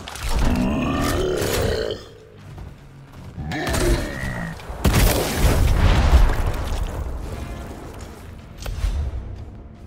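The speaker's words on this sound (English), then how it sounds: "You're gonna fire your grenade now as well." A grenade is fired and explodes in Gears Tactics, a heavy booming blast midway that rumbles and decays. Gruff character grunts and vocal barks come before it, and smaller bursts follow later.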